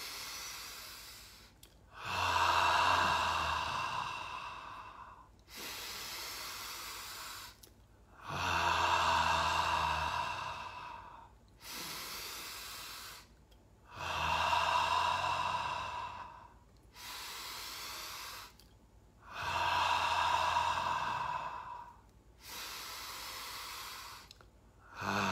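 Deep rhythmic breaths during a guided breathing exercise come as long, loud, hissing exhales and inhales, five or six full cycles each separated by short pauses, close and clear with no talk.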